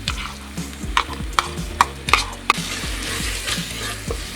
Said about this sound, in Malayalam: നന്നായിട്ട് മിക്സ് ചെയ്ത് കൊടുക്കണം.